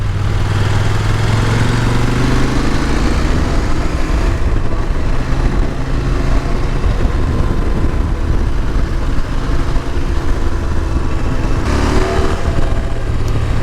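A CFMOTO 800 MT-X motorcycle is ridden on open roads, its engine droning close and loud under heavy wind rush, with pitch rising and falling through gear changes and no talking.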